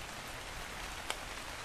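Steady rain falls across a scorched desert world in the video game ARK: Survival Ascended, a constant even hiss of drops with one brief brighter splash near the end, no voices over it.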